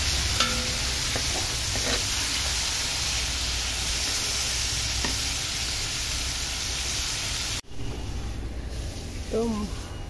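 Prawns fry in a pan for a Bengali chingri dish, giving a steady, close, loud sizzle for most of the clip before it cuts abruptly to a quieter stretch where a voice briefly rises.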